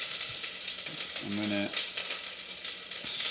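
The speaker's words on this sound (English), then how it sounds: "You hear that sizzle going." Wild boar meatball potstickers sizzle and fry in a pot with a continuous crackling hiss, while someone speaks briefly over the cooking.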